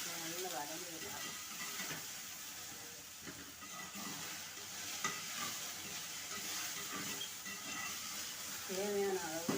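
Okra is sautéed in a pan for a stir-fry, giving a faint steady sizzle with soft intermittent stirring scrapes while a voice speaks over it in places.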